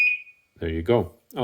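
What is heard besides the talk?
Dogtra 2700 T&B e-collar remote beeping after switching on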